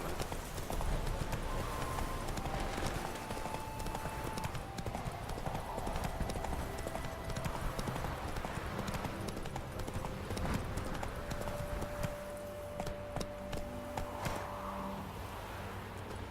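Roach, the horse in The Witcher 3, gallops with steady rapid hoofbeats over a game soundscape, the clip-clop continuous throughout, with brief faint tones and a snort or whinny blending in.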